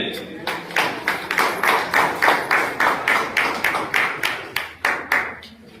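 An audience at a gathering claps together in a steady rhythmic beat, about a dozen loud, evenly spaced bursts filling several seconds.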